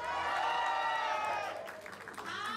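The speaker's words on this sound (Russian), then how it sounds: "Еще раз хлопаем" Wedding guests clap together in a dense burst of applause, with a crowd murmur and cheering tones riding over it, the clapping thinning slightly near the end.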